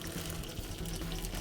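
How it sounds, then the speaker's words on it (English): Boiling water pouring steadily, a continuous splashing gush close by, fairly quiet, no voices. "And we'll add just enough boiling water"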